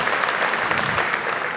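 Dense, steady applause from an audience at a regional business awards ceremony in Gironde, a continuous wash of clapping hands filling the short moment with no voices.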